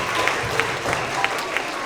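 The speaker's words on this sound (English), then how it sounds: "Let's give them a round of applause." Audience applause fills an elementary school award assembly for third graders, a steady wash of clapping from a crowd in a hall, with scattered louder claps and faint voices underneath.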